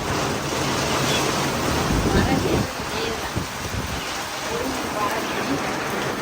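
Steady broadband rain hiss, fairly loud and continuous, with a brief louder swell early on.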